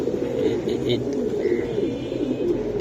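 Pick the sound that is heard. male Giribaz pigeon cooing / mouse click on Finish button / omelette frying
male Giribaz pigeon cooing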